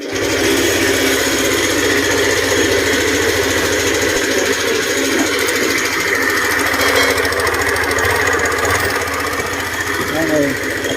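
A Yamaha NMAX 155 scooter engine idles loudly up close with an abnormal harsh, rattling knock running steadily throughout.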